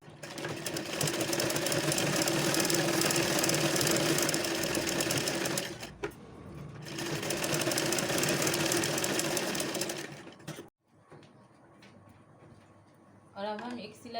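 A sewing machine stitches puff sleeve fabric in two long, steady runs of close mechanical whirring separated by a short pause, then falls silent, leaving only faint room sounds.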